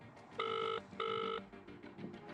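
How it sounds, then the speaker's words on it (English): Telephone ringing unanswered, two clear electronic ring bursts in a row, moderately loud over a faint indoor background, with no one picking up. "The friend calls to check on their meeting arrangements."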